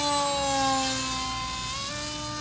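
A homemade foam radio-controlled model plane, a Foam Fighter Bird of Prey, flies past with a steady high-pitched electric motor whine and a faint buzz. It stays fairly loud throughout and eases slightly as it moves away, with no talking.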